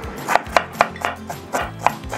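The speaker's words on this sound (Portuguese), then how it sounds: "enquanto o Elia vai cortando e picando o alho e a cebola" Garlic and onion being chopped with a knife on a cutting board while a mussel dish is prepared, with about nine crisp, evenly spaced chops in a steady rhythm, close and clear.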